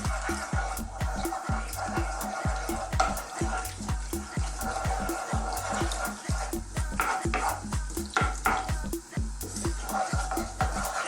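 Ingredients sizzle in hot oil in a pan for a mushroom peas curry, a steady close crackling fry with rhythmic stirring taps throughout.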